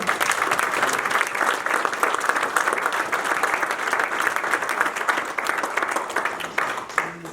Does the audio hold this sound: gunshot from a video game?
no